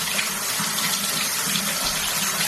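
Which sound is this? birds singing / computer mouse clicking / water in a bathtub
water in a bathtub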